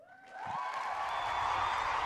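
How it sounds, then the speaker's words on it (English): Audience applause for a couple's 70th wedding anniversary, a steady wash of clapping that swells in quickly and holds, fairly close and full. "Get this deserves a huge applause."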